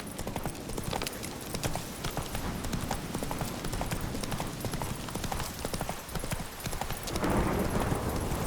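The horse Roach gallops in The Witcher 3: Wild Hunt, a steady rapid clip-clop of hooves close by that continues throughout, with faint background ambience and no talk.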